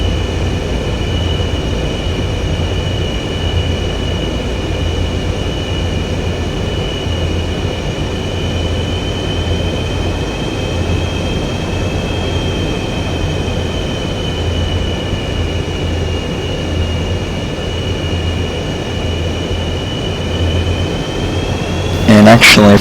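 Steady jet engine whine and low rumble from an F/A-18E taxiing in a flight simulator, holding a constant drone for a long stretch before a brief louder burst at the end.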